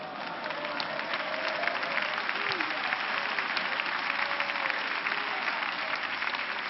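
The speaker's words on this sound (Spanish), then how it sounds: "Dale palmas a Cristo" A church congregation clapping during a Spanish-language sermon, an even, continuous wash of applause at moderate distance, with a voice faintly audible beneath it.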